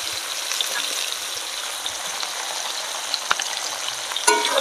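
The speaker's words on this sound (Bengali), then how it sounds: "আর একটু হলুদ দিয়ে এবার ভেজে নেব ভালো করে" Brinjal pieces fry in oil with salt and turmeric, a steady close hiss of sizzling with faint bubbling, one sharp tap midway and a louder clatter of stirring near the end.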